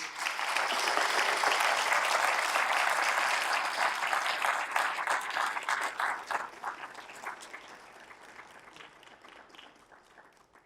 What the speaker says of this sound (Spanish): Les pido un aplauso, por favor, a las tres.